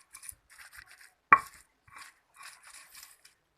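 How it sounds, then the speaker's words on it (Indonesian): Corn kernels are ground for Indonesian corn fritters (bakwan jagung): faint, short gritty scraping strokes in an irregular rhythm, broken by one sharp knock near the start. "Kita giling dulu ininya jagungnya."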